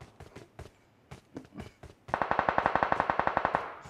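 Gunfire in PUBG Mobile: scattered single shots at first, then a rapid automatic burst of evenly spaced, punchy reports, close and loud.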